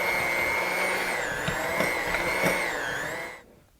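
An electric mixer whirs with a steady, high motor whine as it blends mascarpone cheese, then winds down and stops near the end.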